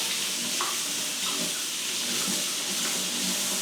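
Tap water runs steadily over a potted Phalaenopsis orchid in bark, a close, continuous hiss and splash with slight fluctuations and no voices.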